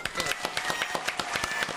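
An audience claps and cheers in a round of applause for a woman named Nadine, quick irregular hand claps under a loose crowd noise, brief and fairly close.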